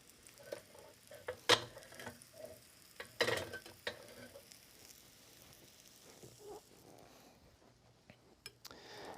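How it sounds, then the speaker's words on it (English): Turnips and Brussels sprouts browning face down in a hot pan give faint, uneven sizzling and crackle, with a few sharper pops and spatters standing out above a quiet background. "actually put them face down and get them browned off a little bit on here"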